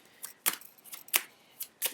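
Short, crisp riffling bursts of a card deck being shuffled, coming in quick irregular bursts, quiet and close with no voices.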